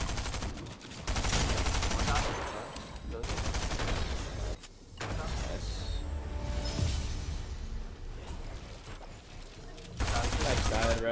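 Rapid bursts of gunfire from a shooting video game crackle almost continuously with brief gaps, loud and close, while players talk excitedly over the shots.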